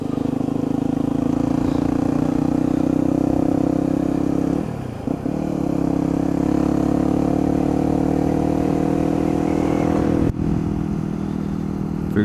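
Supermoto motorcycle riding on twisty roads, its engine droning steadily and close with shifts in pitch as it accelerates and eases off, continuous throughout.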